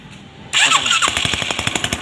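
A Honda CB150 motorcycle engine turns over on the electric starter and catches, then settles into a loud, close, rapid idle with steady pulsing firing beats.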